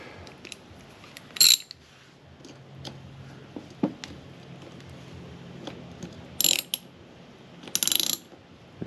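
A fastener being tightened on a Yamaha FZR1000 motorcycle: quiet clicks and light metallic ticks of a ratcheting tool, broken by a few short bursts of harsher rasping, close up with no talk.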